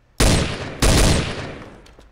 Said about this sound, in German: Ich höre zumindest schon mal Schüsse.